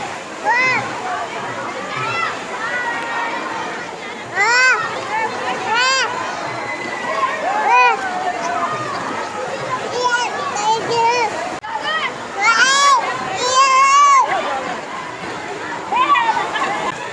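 Water pours and splashes at the Shangrila Resort waterpark, a continuous broad wash heard under children's excited shouts and other voices throughout.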